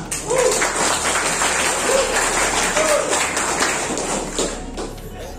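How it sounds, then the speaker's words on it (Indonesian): Applause from an audience at a motorcycle club's third anniversary gathering in Aceh, a steady crowd-wide clatter of clapping with a few voices rising briefly above it. "Tepuk tangan semuanya."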